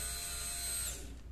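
A fuel pump motor hums when powered on the bench, a steady electric whine with a tonal drone that shifts and eases near the end of the short burst, close up and alone.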